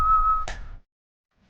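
A person whistles one sustained clear tone that breaks off abruptly, followed by a pause of near silence and then the start of another whistled note.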